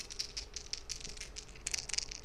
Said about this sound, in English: That's the sound of a D100.